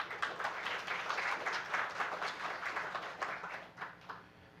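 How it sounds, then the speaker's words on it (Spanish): Applause from the audience at a constitutional law agenda session of Peru's Constitutional Tribunal, a fairly faint, continuous patter of clapping that swells slightly and then thins out toward the end. "Aquí le vamos a ofrecer fuertes palmas."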